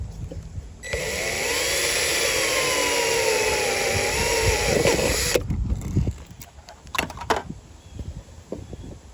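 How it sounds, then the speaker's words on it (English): An aluminum cutter bit drills holes in aluminum, a sustained whining, grinding drill run for several seconds that stops abruptly, followed by a few sharp handling clicks and knocks. "and now I'm going to drill"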